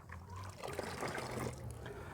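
Cow dung stirred into water to make a slurry for organic fertilizer gives soft, faint sloshing and trickling sounds, close by and irregular.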